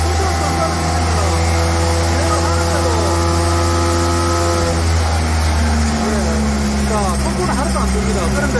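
Volvo 3W excavator with a mower attachment, its engine droning steadily and loudly as power is increased while it travels, tonal engine hum shifting in pitch, with someone talking over it throughout.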